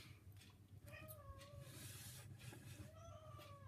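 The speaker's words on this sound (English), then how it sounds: "That is one of my cats crying." A pet cat meows plaintively in a drawn-out, whining cry, repeated twice, faint and somewhat distant over a low background hum.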